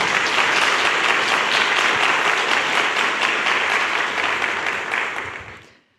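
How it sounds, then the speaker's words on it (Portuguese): A church congregation applauding during a Lenten sermon, a loud, dense, sustained burst of clapping that fades away at the end. "Pode aplaudir este trono de graça"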